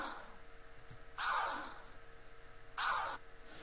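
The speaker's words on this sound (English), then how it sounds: "the volume knob fades up and then fades back down again" Two bursts of an FL Studio synth note, each shaped by a slow volume envelope, swell up and then fade back down, separated by quiet pauses with a faint steady hum.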